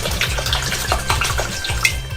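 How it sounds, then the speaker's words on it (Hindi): Expensive wine, half a bottle, poured into a frying pan holding tomatoes for a gold pizza sauce, a continuous splashing liquid stream close up, steady and fairly loud with light clinks of pan and bottle. "फ्राइंग पैन में आधी बोतल डाल देंगे"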